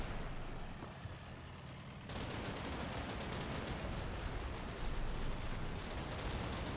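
Distant gunfire from the wartime strategy game Combat Mission: Battle for Normandy rattles as a dense, continuous fusillade under a steady rumbling background, faint and unbroken throughout.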